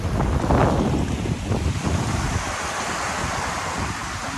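Surf rolling onto Lhok Mata Ie beach in Aceh Besar, a steady broad rushing wash with a louder surge early on, heard alone and heavily mixed with wind buffeting the microphone.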